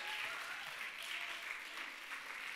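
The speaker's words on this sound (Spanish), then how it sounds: "Denle ese aplauso fuerte a Jesús." A church congregation applauds: dense, steady clapping that fills the whole stretch at an even level, with no voice on top.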